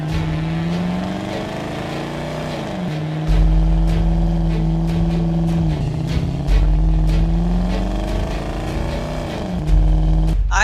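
A cartoon car races after a train, its engine humming steadily with rising and falling pitch swoops as it accelerates, over a deep continuous rumble, with no talking.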